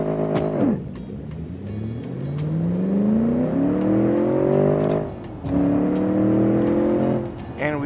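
Bandit Turbo RX car in the video game Automation accelerating hard, engine pitch rising steadily through two gear changes with brief drops between, loud and continuous.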